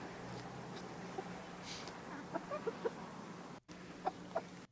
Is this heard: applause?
no